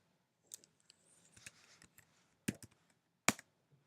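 Scattered keystrokes on a computer keyboard, close and crisp, come in short irregular bursts with pauses and a couple of sharper, louder taps near the end.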